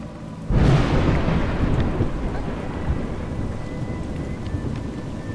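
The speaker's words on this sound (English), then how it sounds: "It's raining." A sudden crack of thunder bursts in over soft rain in the video game A Juggler's Tale, then rolls into a loud rumbling downpour that slowly fades while heavy rain keeps hissing.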